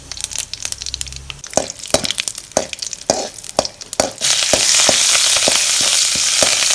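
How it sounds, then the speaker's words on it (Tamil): Crackling pops and spatters as curry leaves hit hot oil, then a loud continuous sizzle takes over and holds steady to the end. "எண்ணெயில் போட்டால் கொஞ்சம் வாசமாக இருக்கும், அதனால் கருவேப்பிலை போட்டேன்"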